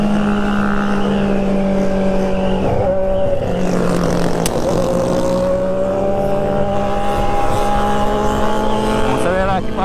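A Honda Hornet motorcycle with a straight-through exhaust revs hard against the rev limiter during a night Christmas group ride, a loud continuous buzzing drone with wavering pitch, other engines mixed in close by.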